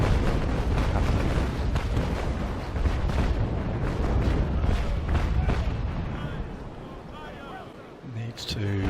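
Ship cannons fire in the naval battle game Naval Action, in a snowy setting. Heavy, dense booming roars for several seconds, then slowly fades into a quieter rumble near the end.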